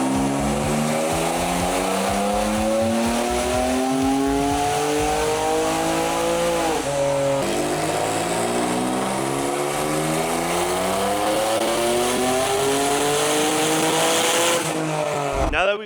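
An 800-horsepower Kia Stinger with upgraded port injection roars on a dyno, loud and continuous, its pitch climbing steadily through long pulls with a brief drop midway and another sweep near the end.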